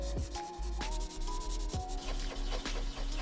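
An Ohuhu alcohol marker's chisel nib scrubbed across paper in repeated back-and-forth strokes, a close, steady raspy rubbing with short gaps between strokes and no talking.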